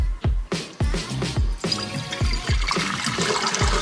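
Tap water runs into a cooking pot for boiling hot dogs, splashing and gurgling loudly and close up in uneven bursts.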